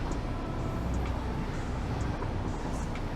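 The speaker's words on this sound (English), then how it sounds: "I can barely hear the music over the train." A train in the video game Satisfactory gives a steady, loud rumbling drone that holds evenly for about three seconds, with faint clicks above it and no speech.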